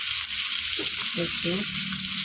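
Pitha frying in hot oil gives a steady broadband sizzle throughout, with a few faint tonal clanks or voice-like sounds in the middle.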